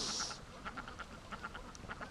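Ducks around a pen near a lake give a quick series of soft, rapid quacks, fairly faint and at a little distance, following a brief hiss at the start.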